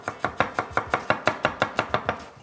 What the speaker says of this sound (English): In the meantime, I can get my garlic chopped.